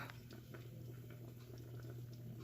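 Turkey bones simmering in a pot of water for bone broth give a steady, quiet bubbling with soft patter and small pops, continuous and close throughout.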